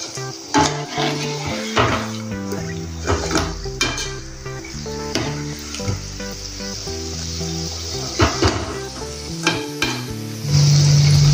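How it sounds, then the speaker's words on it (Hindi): Pocket samosas fry in oil over a low flame, soft sizzling mixed with clinks of a utensil against the pan and occasional stirring knocks, while background music plays throughout. "धीमी आंच पर अच्छे से तलेंगे इसको।"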